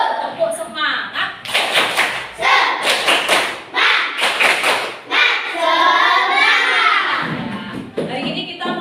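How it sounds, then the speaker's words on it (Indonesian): A classroom of schoolchildren in Indonesia performs a rhythmic clapping chant together, loud bursts of group claps and thumps mixed with children's voices chanting and shouting close by. "Tepuk semangat."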